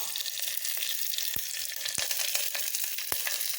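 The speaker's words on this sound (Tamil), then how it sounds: "இப்போ நம்ம இந்த வெங்காயம் தக்காளி நல்லா வதங்கட்டும்" Onions and tomatoes sautéing in oil for kurma after mustard seeds and dried chillies, a close steady hiss with a few sharp pops and spoon taps against the pan, no speech.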